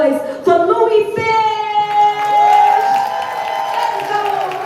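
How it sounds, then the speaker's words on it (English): Crowd at a live poetry show in Phoenix applauding and cheering for a poet, with whoops and steady clapping under a host's voice and a rising tonal sound across the clip. "Can y'all put y'all hands together and make some noise for Louis Fish?"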